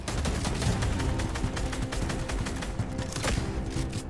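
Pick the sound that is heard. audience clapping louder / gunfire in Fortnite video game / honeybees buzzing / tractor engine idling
gunfire in Fortnite video game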